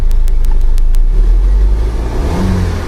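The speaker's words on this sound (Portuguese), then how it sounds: "Vou ligar o motor" A 2012 VW Jetta 2.0 TSI engine cranks with a few rapid clicks, then catches and settles into a smooth, loud running hum close by, with no talking.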